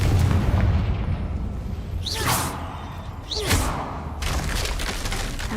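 A Confringo spell in a Hogwarts video game sets off explosive blasts: two sharp whooshing bursts with booming impacts over a low rumbling background.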